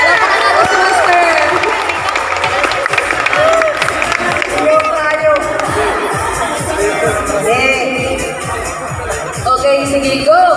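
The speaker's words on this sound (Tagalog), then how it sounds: "Palakpak natin si Master!" An audience claps and cheers for Master during a lively Christmas party game, with steady crowd applause and shouting mixed with voices.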